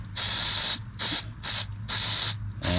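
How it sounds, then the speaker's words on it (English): Brake cleaner from an aerosol can sprayed onto a bolt during an oil change on a 2022 Ford Maverick EcoBoost, heard as five loud, close hissing bursts of about half a second each, separated by short pauses, with no talking. "Every time I clean the bolt, I always use some brake cleaner."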